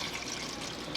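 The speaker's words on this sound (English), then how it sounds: "We are going to replace the water with milk. We're using whole milk." Whole milk poured from above into a pot of cooked potatoes for homemade potato soup, a steady close liquid stream splashing and gurgling throughout with no talk.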